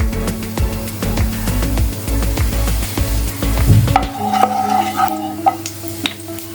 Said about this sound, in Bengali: এতে আমরা সর্ষের তেল দিচ্ছি।